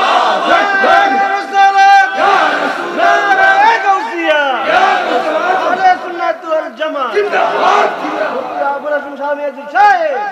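A large crowd at an Islamic sermon gathering shouts Allahu Akbar in loud, rising collective chants after a takbir call, with several waves of voices swelling and overlapping.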